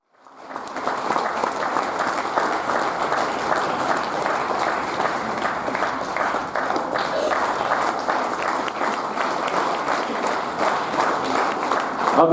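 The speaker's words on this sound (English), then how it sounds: "Let's keep the applause going, ladies." Sustained crowd applause at a sports awards ceremony for National Games medal winners rises quickly and holds as a dense, even wash of clapping for the whole stretch.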